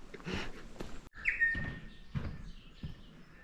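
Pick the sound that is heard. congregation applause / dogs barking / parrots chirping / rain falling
parrots chirping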